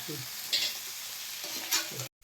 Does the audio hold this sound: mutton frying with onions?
yes